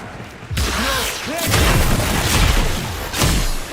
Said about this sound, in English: I could call in an airstrike